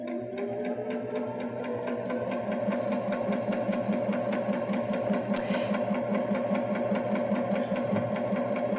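A Baby Lock Jazz II sewing machine runs steadily while top stitching fabric, a fast even mechanical chatter of the needle close by, with one brief higher click partway through.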